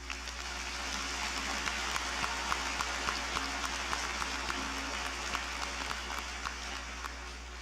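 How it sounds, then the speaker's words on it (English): A large graduation audience at a high school commencement applauds the faculty, a steady, distant wash of clapping filling a big hall, with a low hum underneath and no speech. "Please give them a round of applause"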